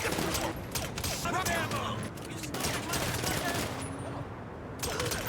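Rapid, dense gunfire crackles during a GTA Online match, with shots overlapping in busy bursts against a noisy game backdrop and some voices mixed in.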